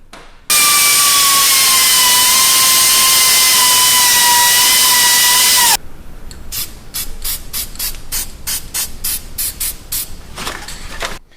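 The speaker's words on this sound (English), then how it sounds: "you're going to want to cut off this tab and this tab on the factory knuckle brake line bracket" A cutoff wheel bites into the steel tabs of a factory knuckle brake line bracket on a Toyota Tacoma, giving a loud, continuous high-pitched whine and grinding rasp for about five seconds. Then a run of quick, regular scraping strokes follows.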